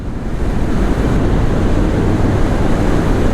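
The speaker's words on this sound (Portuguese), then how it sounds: "E o vento tá brabo, hein?" Strong wind roars steadily across the microphone during a solo motorcycle trip toward Monte Alto, São Paulo, a loud, constant buffeting rush with no voices.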